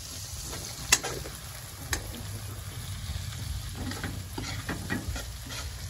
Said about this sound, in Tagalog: Gisa-gisahin lang natin.